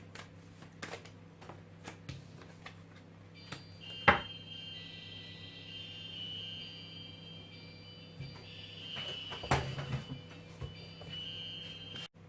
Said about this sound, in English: something just went, an alarm went off